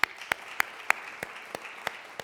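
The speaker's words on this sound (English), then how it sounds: "And if we can give her another round of applause." A small audience at a panel discussion on racial disparities in education claps for a presenter: sparse, evenly spaced claps, moderately close and fairly quiet, with no voices over them.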